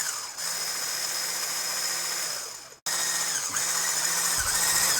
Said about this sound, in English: we're gonna be mixing the egg yolk with 1 1/3 cups of sugar.